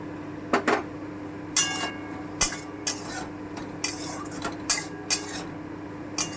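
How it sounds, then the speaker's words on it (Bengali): Okra drops into a pan of fried spice masala and is stirred, with a spoon knocking and scraping against the pan in a string of sharp, close clatters over a faint background. "এবারে আমি ভেন্ডি বা ঢ্যাঁড়সটা দিয়ে দিচ্ছি"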